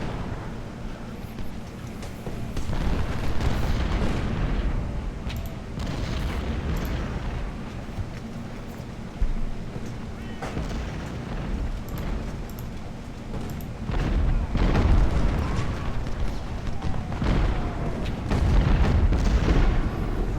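Cannon artillery fire on a Civil War battlefield in a strategy video game, a continuous rumble of booming blasts and distant explosions rolling on without pause, loud and dense.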